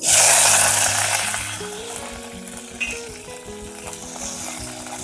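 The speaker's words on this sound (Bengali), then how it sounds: "তেল গরম হয়ে গেছে এবার যে চাপা শুটকিগুলো ধুয়ে নিয়েছি সেটা দিয়ে" Washed chepa shutki dried fish dropped into hot oil, setting off a loud, close burst of sizzling that gradually settles into steadier frying crackle with occasional scrapes of a utensil against the pan.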